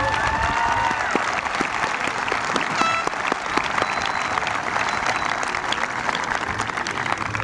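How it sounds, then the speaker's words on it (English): A graduation crowd at a 2021 high school commencement applauds steadily and loudly, dense clapping filling the hall for several seconds, with a few faint whistles near the start. "But if we could please have them stand and give a round of applause to Ms. Cammie Duda and Mrs. Denise MacArthur"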